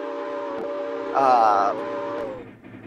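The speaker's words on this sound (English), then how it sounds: "The train horns are a little loud." A brief train horn sounds for about half a second over a steady tonal hum, moderately loud.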